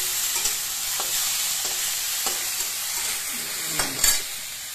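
Vegetables for a methi matar malai dish cooking over a low gas flame, a soft steady sizzle with occasional spoon scrapes and light taps against the pan.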